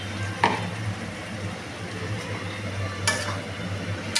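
Continuous soft sizzle of garlic frying in a pan for a dried-fish dish, broken by a couple of brief scraping stirs of a spatula.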